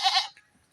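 A goat gives one short, loud bleat close by, strong and nasal, followed by faint scattered farmyard noises and near silence.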